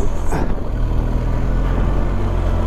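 A car climbs the steep Hardknott Pass in first gear, its engine holding a steady, loud low drone with no letup throughout.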